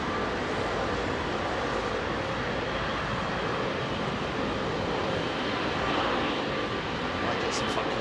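Qatar Airways Boeing 777 at Heathrow runway 27R, a dense, steady engine roar close by and loud, with a voice speaking now and then over it.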